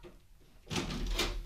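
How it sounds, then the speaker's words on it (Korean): A door swings open in a Korean fantasy radio drama, a sudden close burst of creaking and rattling after a quiet start, sustained with a second scrape as it moves. "문을 열고 들어온 것은 바로 아르페오네였던 것이다"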